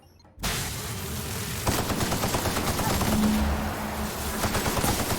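Shotgun gunfire in the video game The Outer Worlds, a sudden loud onset followed by continuous dense rattling shots and combat noise, with some faint voice underneath.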